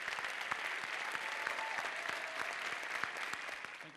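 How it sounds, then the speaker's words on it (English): An audience at an awards ceremony claps for the recipients, a dense, even round of applause holding steady for a few seconds before easing slightly at the end. "how about a big round of applause for all of our recipients?"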